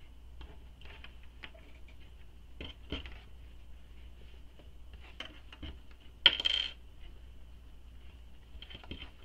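Small sewing clips click and clatter as they are fastened along the sides of a fabric wristlet, scattered light ticks with one sharper rattle.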